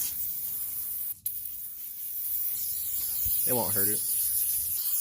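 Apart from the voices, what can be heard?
spraying off a truck undercarriage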